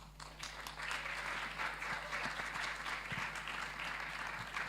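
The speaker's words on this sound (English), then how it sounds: "I think he needs another round of applause" An audience claps in steady applause at a Carifesta event, heard at moderate distance as a continuous wash of hands over a low background hum.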